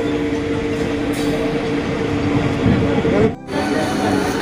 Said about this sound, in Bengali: চন্দ্রপুর ছেড়ে দিল ট্রেন।